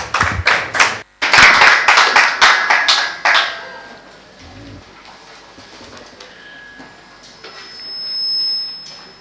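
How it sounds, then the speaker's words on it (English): Hands clap rapidly in a burst for a few seconds at a criminal law conference, with a brief gap, then the applause fades into a quiet room with faint background noise. "Please give him a round of applause."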